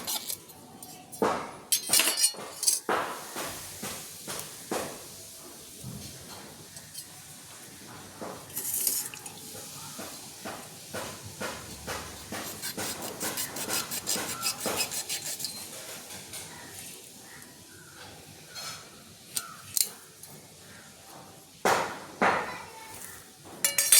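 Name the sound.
cutting nannari root and adding it to juice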